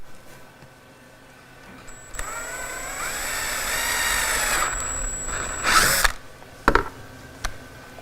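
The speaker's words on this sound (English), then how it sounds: "we actually drill a 3/8 hole up and over for a little bit tighter fit of the shrouds" A power drill bores a 3/8 inch hole in a motorcycle radiator shroud, whining steadily for about four seconds, then a few short clicks and knocks of handling follow, with no talking.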